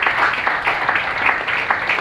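A stand-up comedy audience claps steadily for comedian Aparna Nancherla, a dense, loud round of applause filling the whole stretch with no voices over it.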